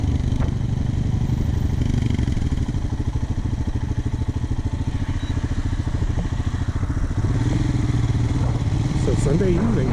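A Royal Enfield motorcycle, a Himalayan or Classic 350, runs steadily along the road on a Sunday evening, its thumping single-cylinder engine close and continuous with wind noise throughout, no talk heard.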